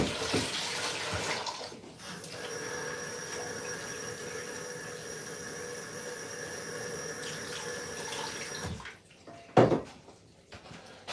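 Tap water running steadily into a kitchen sink to wet a cooking spatula, a continuous close hiss and splash lasting several seconds before cutting off, followed by a brief clatter.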